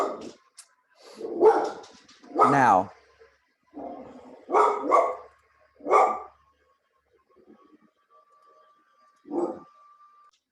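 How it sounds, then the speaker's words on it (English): A dog barks close by in a home, sharp repeated bursts in irregular clusters with quiet gaps between, and a person speaks briefly among them. "So I apologize for the dog barking."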